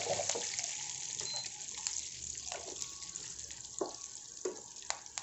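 Curry leaves and dried red chillies frying in hot oil for a garlic pickle tempering, with faint, scattered crackles and sharp pops over a soft, steady sizzle.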